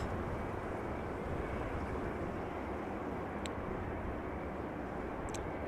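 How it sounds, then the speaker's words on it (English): Cargo jet taxiing at Amsterdam Schiphol Airport, a steady broadband engine roar that holds even and continuous throughout, with no talk over it. "Is that the Latam cargo taxiing to depart again?"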